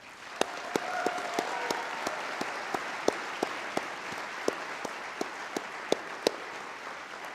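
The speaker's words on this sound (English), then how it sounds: "please join us in a round of applause for our new second lieutenants" A crowd at a military commissioning and graduation ceremony applauds steadily, a dense wash of clapping with a few sharper claps standing out, moderately distant.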